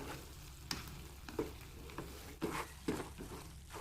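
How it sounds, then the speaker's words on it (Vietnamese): Snails and sliced onion stir-fried in a pan at home, a steady close sizzle broken by a few sharp scraping stirs and clinks, with no talking. "ốc xào thêm tí nữa cho nó chín cái hành tây"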